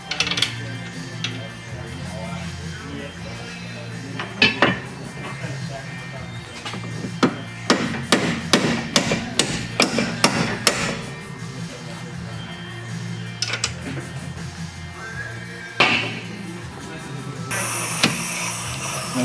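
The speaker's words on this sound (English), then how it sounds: "you're going to have to use the hammer, tap those bolts in a little bit so you can get some of the threaded section out" Hammer tapping rear strut bolts on a 2001 Oldsmobile Intrigue during a complete strut assembly replacement: a run of sharp metallic taps in quick succession mid-clip, with a few isolated hits before and after, under someone speaking.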